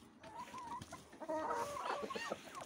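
Hens cluck softly and intermittently at close range around their water pot, in short, uneven bursts of calls.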